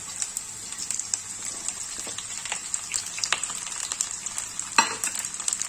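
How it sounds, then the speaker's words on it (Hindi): Radish, carrot and chili are stirred in hot oil with the gas turned off, a continuous close crackling sizzle punctuated by scraping spoon strokes against the pan, with no talking. "अब इसको मैं थोड़ी देर चलाऊंगी।"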